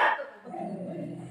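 A pet dog gives a single short, sharp bark that trails into a lower whine or growl, heard close and alone.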